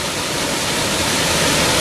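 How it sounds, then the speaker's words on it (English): Water pouring over a spillway waterfall at the site of an old mill in Connetquot River State Park, a loud, steady, broadband rushing roar with no pauses. "And there's that waterfall. The spillway."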